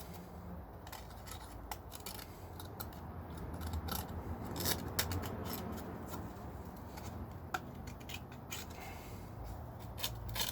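Small snips trimming a corner on a Les Paul guitar build, heard as a close, quiet stream of crisp cutting clicks and scrapes over a faint background hum.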